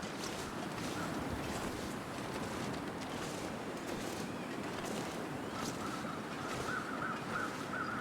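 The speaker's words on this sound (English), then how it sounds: "It's a bit windy." Steady wind gusts blow across a snowy outdoor landscape in the survival game The Long Dark, a continuous rushing roar at an even level throughout with faint tonal whistles late on.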